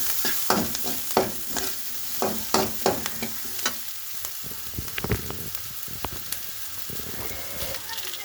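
Black nightshade greens sizzle in a hot frying pan as a utensil stirs them, with sharp scraping strokes in the first half easing into a steady close crackle.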